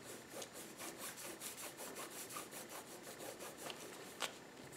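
A fingertip rubs dried paint off a surface in quick, repeated scratchy strokes, close and faint, with no talking.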